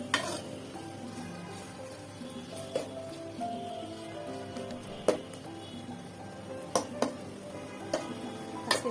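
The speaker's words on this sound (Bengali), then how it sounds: "মাছটা ভালো করে মশলার সাথে কষিয়ে নেব।" Fish cooks in a pan with spices, frying in a steady sizzle while a utensil stirs and scrapes, sending sharp knocks against the pan every second or two.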